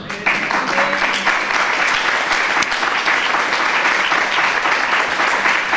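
Sustained applause from a church congregation during a sermon, a dense, steady wash of many hands clapping that fills the whole stretch at an even loudness.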